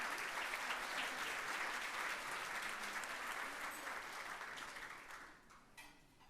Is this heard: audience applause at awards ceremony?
yes